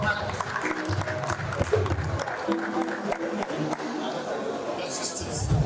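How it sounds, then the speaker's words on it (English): An audience at a community foundation gathering on the girl child and family planning claps in scattered bursts amid crowd chatter, with voices talking over the clapping throughout. "Let us clap for that."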